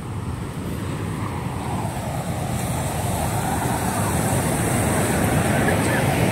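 Sea waves at a Mindoro beach give a continuous broad wash of surf mixed with wind noise, steady and fairly loud throughout, with no talk.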